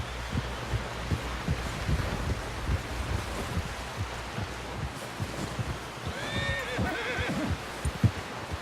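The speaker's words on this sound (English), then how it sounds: "Someone help John down off this horse." A horse in the video game Red Dead Redemption 2 whinnies loudly near the end over a steady patter of hoofbeats and low thumping.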